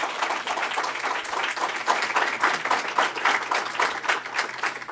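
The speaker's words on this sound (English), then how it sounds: "All right, go ahead and clap." After a congressional debate hosted by a chamber of commerce, the audience claps in a sustained, moderately loud round with many overlapping hands and small swells in intensity. No voices are heard over it.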